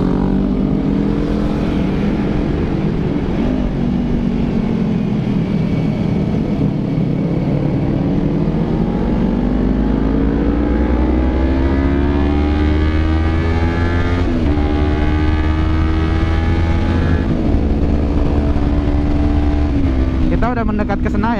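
A group of motorcycles rides together at night toward Senayan, engines droning steadily and loudly close by for the whole stretch, with pitch rising and falling as riders accelerate, under a continuous rush of road and wind noise.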